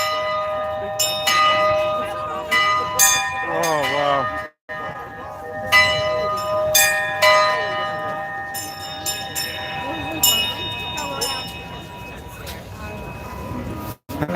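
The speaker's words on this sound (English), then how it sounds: "Everybody loves the bell." Church bell ringing repeatedly with loud, sustained metallic strikes and long ringing overtones, close by, while people talk and exclaim between the peals.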